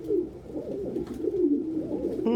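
Pigeons coo continuously while feeding together as a flock, a close, steady burbling murmur of overlapping calls that fills the whole stretch.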